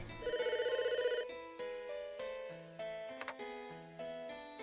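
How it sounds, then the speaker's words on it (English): Telephone ringing in the Famicom Detective Club video game: a synthesized chiptune ring in a repeated warbling burst, followed by a soft melodic game jingle; faint and without speech. "The phone is ringing."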